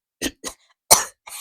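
A few sharp, close coughs in separate bursts with short pauses between them, as a boy chokes on a horribly foul smell of cheap aftershave.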